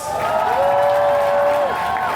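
Audience at a YouTube Black Future Insiders event in Lagos applauding and cheering, a steady dense wash of crowd noise with a sustained tonal note running through the middle.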